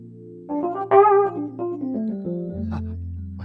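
A vintage 1970s-style electric piano voice, from an Applied Acoustics Systems Lounge Lizard model, played on an Osmose 61-key keyboard: a short melodic phrase of ringing notes, with a louder chord near the start and a pitch bend sliding down near the end.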